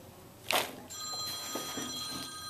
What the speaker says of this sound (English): Obviously my phone ringing, let me turn that off.